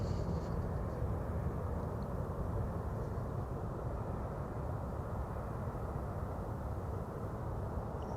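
A departing airliner heads for San Diego on a frosty morning at Reno airport, its steady broadband engine roar filling the whole stretch at even, sustained loudness without any talk.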